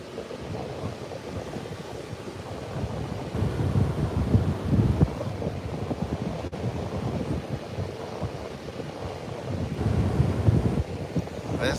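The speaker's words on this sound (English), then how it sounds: "It's definitely windy, that's for sure." Strong wind buffets the microphone in low rumbling gusts at Garden City Beach, with surf washing in the background; no one speaks.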